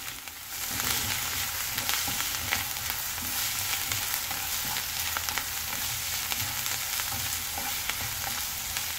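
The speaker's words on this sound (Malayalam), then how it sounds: "ഇങ്ങനെ ഒരു 5 മിനിറ്റ് എന്തായാലും വീണ്ടും നമുക്ക് വറുക്കേണ്ടി വരും." Grated ginger fries in a generous amount of oil for ginger curry, a continuous close sizzle with scraping stirs and crackles throughout, no talking.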